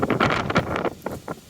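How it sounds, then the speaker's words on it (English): Gusty wind buffets a microphone in uneven rumbling bursts, loud and close, with no other clear sounds. "Sorry about the wind, guys."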